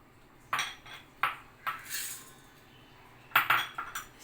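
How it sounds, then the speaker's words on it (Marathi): Several kinds of puffed rice, including churmure, are gathered and mixed together in a pot for a chivda, giving a quiet run of irregular clinks and knocks against the metal with short pauses and no voices. "सुरुवातीला पातेल्यामध्ये आपण या ज्या सगळ्या लाह्या आहेत, त्या सगळ्या लाह्या आपण एकत्रित करून घेऊया."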